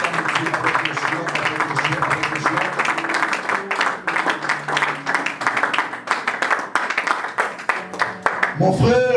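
Church congregation applauding and clapping for the Lord, dense rhythmic group clapping that carries on steadily and loudly throughout, with voices mixed in underneath.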